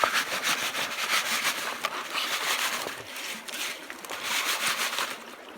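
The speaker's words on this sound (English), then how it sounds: "And now I'm just gonna put more water and sift this out." Gravel and water slosh and rub in a screen sifter while gold prospecting in Wyoming, a continuous gritty wet scraping with rhythmic swells, close and moderately loud, no talking.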